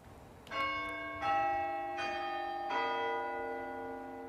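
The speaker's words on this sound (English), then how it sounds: "Bells ring out over the Suffolk town of Framlingham" Church bells ring out over the Suffolk town of Framlingham, four clear resonant strikes about a second apart, each leaving a long shimmering hum that overlaps the next, heard alone at moderate distance.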